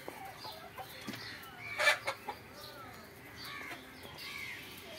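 Egyptian Fayoumi chickens cluck faintly on a poultry farm, a few scattered soft calls and one sharper squawk rising from a quiet, rustling background.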